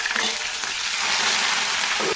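Onions, green chilies and curry leaves frying lightly in a pan, with a continuous close sizzle and faint clinks of stirring through the short stretch, no voices.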